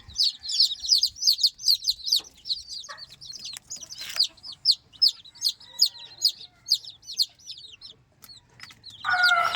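Newly hatched chicks peep in a brooder, a dense run of high, sharp repeated chirps close by, with a few soft bumps and rustles and a brief louder call at the end.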